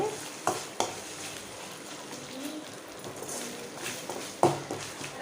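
Ginger garlic paste frying in a pan with golden onions gives a soft, continuous sizzle, broken by a few sharp clinks of a spoon stirring against the pan.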